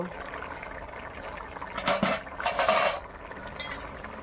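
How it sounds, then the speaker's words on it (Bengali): A metal lid comes off a pot of fish and fig curry, with a couple of clanking scrapes and a short watery bubbling burst in the middle, close and fairly loud over a quiet kitchen background. "এইবার ঢাকনাটা তুলে নেব"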